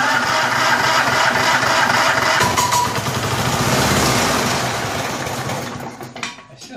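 A Snapper 21-inch lawn mower engine with a bad noise runs loud and close with a rough, steady drone, then winds down and fades near the end.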